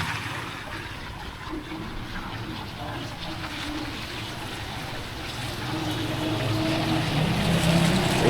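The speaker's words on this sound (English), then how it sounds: "the water is running" Floodwater rushes along a street in Cebu during rain, a continuous broad wash of noise with a low rumble. The sound grows a little louder toward the end.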